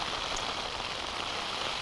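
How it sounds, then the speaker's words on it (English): Steady rain and wind hit a wild camp in the Scottish hills at dusk, forming a dense, unbroken hiss that fills the whole moment. "just as we're beginning to pitch, the rain starts and we all get soaked."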